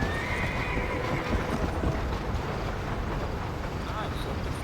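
Horse galloping in the video game Red Dead Redemption, a steady stream of hoofbeats over wind and ambient noise, with a voice talking over it.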